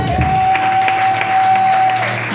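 A church congregation claps together, a dense, continuous round of applause heard close, with a sustained tone and a voice underneath.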